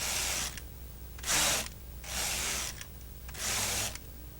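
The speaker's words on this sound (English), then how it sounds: "move the carriage at an even speed to give the yarn an even tension" The carriage of a Brother KX-390 knitting machine slides back and forth along the needle bed in four even passes, each a loud, rasping mechanical swish separated by brief, quieter pauses, with no talking.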